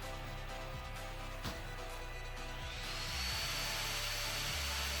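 A 2019 Acer Predator Helios 300 gaming laptop's fans run in turbo mode, a loud steady whooshing roar that swells slightly in pitch and intensity partway through, with a few faint low thumps underneath.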